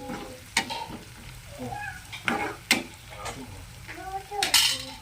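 Green chillies stirred into onions frying in a pan for a chicken fry: a steady close sizzle broken by several sharp spatula scrapes and knocks against the pan, with no talking.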